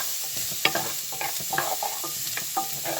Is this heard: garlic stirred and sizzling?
yes